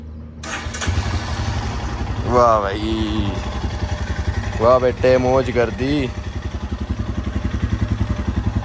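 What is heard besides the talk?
Royal Enfield Himalayan motorcycle engine starting and idling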